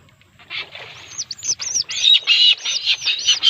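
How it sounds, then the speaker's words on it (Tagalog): Many birds chirp and twitter together in a dense, busy chorus, growing louder and more overlapping after the first second. "may ibon. Ang daming ibon."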